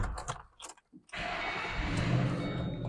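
A 2007 Ford Mustang GT California Special with a 5-speed and 17k miles has its engine crank and catch about a second in, then settle into a loud, steady idle. A brief voice is heard beforehand.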